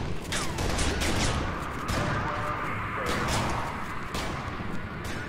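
Gunfire rings out in a firefight in the Kane & Lynch: Dead Men video game, with repeated sharp shots and crashing impacts layered over a dense, loud background of combat noise.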